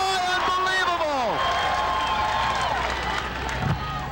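A crowd at an AVP beach volleyball tournament in 1999 roars and cheers, loud at first and then trailing off, with a commentator talking over it.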